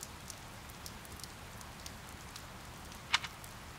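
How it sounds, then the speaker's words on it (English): Soft, steady rainfall in Fire Emblem: Three Houses, a faint continuous patter with a single brief sharper drop or tap near the end. "It's raining, Professor."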